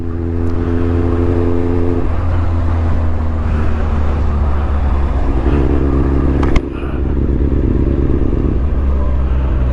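A Kawasaki Ninja ZX9R motorcycle engine heard while riding, a loud steady drone with shifting pitch as the engine note changes, dominating with wind noise and no talk.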